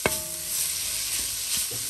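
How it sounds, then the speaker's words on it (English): Food sizzling in hot oil, a soft continuous crackle with a sharp clink at the start and light stirring sounds. "So this is a stir fry in shea butter oil. You can see it frying under there beautifully."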